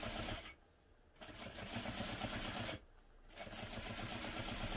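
A sewing machine top stitches down a side where two folds meet, using a long stitch length and an 1/8 inch seam allowance. The running hum is close and steady, with two brief pauses.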